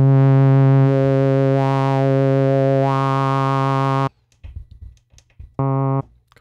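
A Moog Sub 37 synthesizer playing a sustained tone with its filter slope switched to 6 dB: a loud, bright, buzzy note with a slight sweep, then a cutoff, brief low scraps and a short final burst of the same tone.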